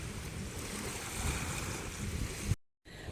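Sea waves wash at Wakra Beach with a steady, broad surf roar and wind noise, close and fairly quiet, before cutting briefly to silence near the end.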